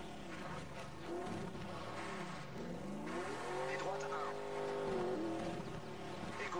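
A buggy in the Colin McRae Dirt racing game slides with a whining engine and wavering tyre squeal, loud and continuous, while a voice talks over the car noise.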